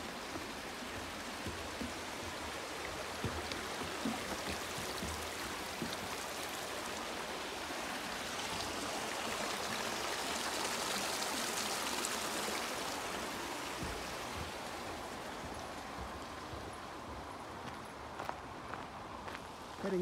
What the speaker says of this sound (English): we have made it to Ophir Creek near the Mount Rose Highway